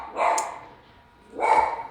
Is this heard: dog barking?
yes